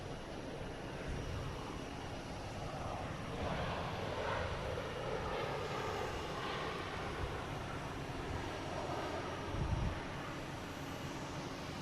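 An American Airlines Airbus A321 arriving from Los Angeles at Boston Logan, a steady distant jet roar that swells slightly in the middle and holds as a broad continuous rumble, with no voices.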